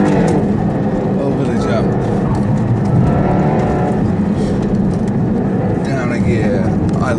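A fast performance car drives hard around a race track, its engine droning loudly and steadily through corners and a jump. Someone talks over the continuous engine noise.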